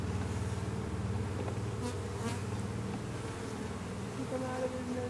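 Honeybees buzzing during a beehive inspection, a steady dense drone from many bees close up that holds evenly all the way through.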